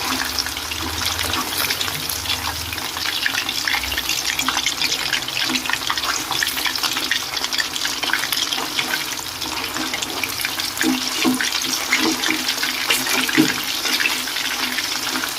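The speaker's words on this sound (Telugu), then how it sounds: "చికెన్ బాగా వేగనివ్వాలి" Chicken fries in a pan for chilli chicken, giving a steady, dense hiss of sizzling oil that runs unbroken and fairly loud for the whole stretch, with no talking.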